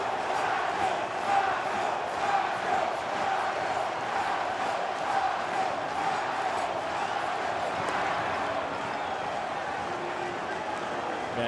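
Puerto Rican and Venezuelan fans at a 2009 World Baseball Classic game roar in a continuous stadium crowd din, heard at a distance with a steady wash of cheering.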